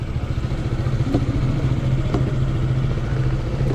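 A motorcycle engine idles close by with an even, low throbbing hum and a couple of faint light clicks.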